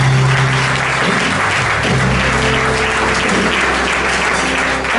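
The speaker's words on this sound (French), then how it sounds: "Est-ce qu'on va acclamer pour ça?" Sustained applause and cheering fill a church service, a dense, loud wash of clapping from a large audience that continues steadily throughout with no pauses.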